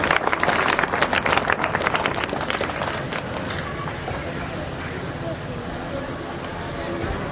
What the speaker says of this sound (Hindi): इसलिए उत्साह के लिए एक बार जोरदार तालियां